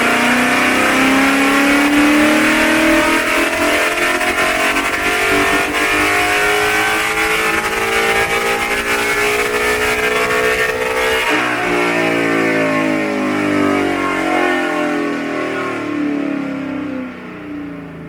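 A retuned Ford Mustang street car roars loud and close on a dyno, its engine revving hard in a sustained climbing pull before easing off near the end, with no voices.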